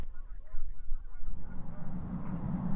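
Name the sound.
Canada geese honking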